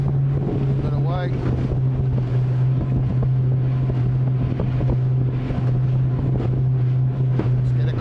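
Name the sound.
Mercury Racing powerboat running across choppy water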